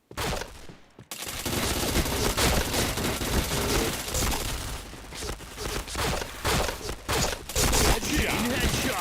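Gunfire in a shooting video game, with dense rapid bursts of automatic shots and sharp single cracks that go on almost without pause. A brief quiet gap comes near the start, and the shots are loud and close.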